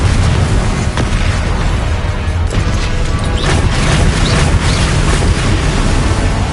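Confringo fire spells in Hogwarts Legacy blast out loud, dense booming explosions with crashing bursts that run continuously through the whole stretch.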